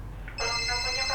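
A telephone rings with an incoming call to a live Ramadan call-in broadcast, its steady electronic ringtone starting abruptly partway through and sounding loud and continuous over a low background hum.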